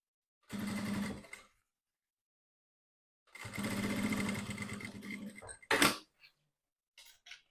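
A sewing machine runs a seam close to the fabric edge of a triple zip pouch: two close bursts of stitching separated by a pause, followed by a few short clicks and knocks.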